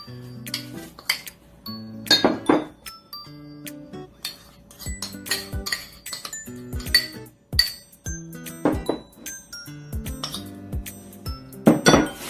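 Sugar and peanut butter being stirred together in a big bowl, giving bursts of clinking and scraping of utensil against the bowl in irregular rhythm, fairly close and moderately loud, with no talking.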